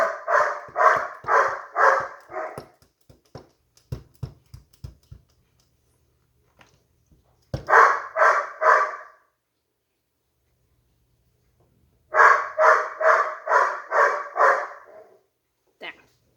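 An older dog and a little one squabble over a bone indoors in loud bursts of rapid barking, separated by quiet stretches with light clicks and taps, then a final single bark.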